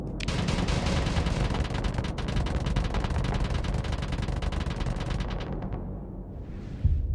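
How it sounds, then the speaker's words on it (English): Dense, continuous rapid-fire bursts of missile volleys from Lasher-class frigates in the Starsector space combat game, loud and sustained before cutting off abruptly near the end, with no talk. "you've been flanked by a pair of Lasher-class frigates. They're going to start launching missiles at you"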